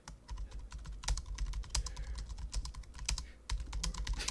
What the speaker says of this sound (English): And so you just type in a reason here